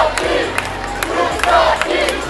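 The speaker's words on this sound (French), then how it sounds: "Et écoute ce que la foule leur fait comme ovation." Spectators at the Barcelona 24-hour motorcycle race cheer and shout toward the podium, a loud, sustained crowd roar with scattered whoops and yells.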